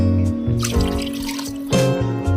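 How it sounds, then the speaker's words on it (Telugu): Tamarind pulp poured through a kitchen strainer gives a few brief wet splashes and dribbles in two bursts, over steady background music. "ఇలా స్ట్రైనర్లో తీసుకుందామండి పులుసుని"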